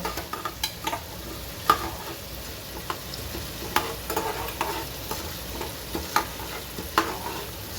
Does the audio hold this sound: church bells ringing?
no